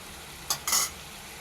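Prawns fry in a pan as a utensil gives two quick stirring scrapes over a low background sizzle.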